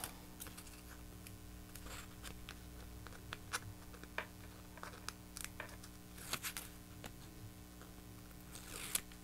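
Adhesive backing peeled slowly off a sticky sheet while making a book box, heard as faint, close crackling and tearing with scattered small ticks and rustles.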